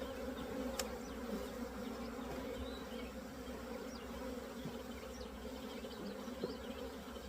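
Honeybees buzz steadily around an open hive during a hive split, a dense continuous drone with individual bees passing close by, and no voices.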